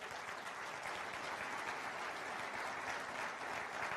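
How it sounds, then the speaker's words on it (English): An audience applauds at a county government address, a steady wash of clapping from many hands, sustained and even for the whole stretch, with no one speaking over it. "Mary Kay, you deserve a nice round of applause"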